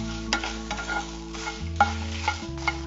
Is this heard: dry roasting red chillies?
yes